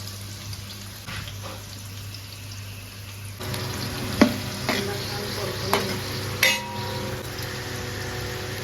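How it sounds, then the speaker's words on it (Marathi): Onion and cashews frying in hot oil for masala bhat, a soft continuous sizzle with a few sharp stirring clinks and scrapes after a quieter start, heard close with a faint background hum. "कांदा तेलात टाकलाय"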